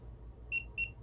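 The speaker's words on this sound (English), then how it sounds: "it's going to beep 3 times" A tire pressure sensor monitor gives three short, high electronic beeps in an even rhythm over a low background hum, fairly quiet.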